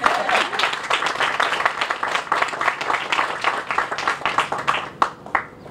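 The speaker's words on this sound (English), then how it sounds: "You can clap for those." An outdoor audience at a Pride Month ribbon cutting for rainbow crosswalks claps loudly and steadily for several seconds before the applause thins out near the end.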